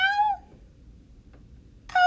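Two clear meows from a cat shut inside a carved wooden closet, one at the start and another just before the end, separated by near silence; both are loud, close and drawn out.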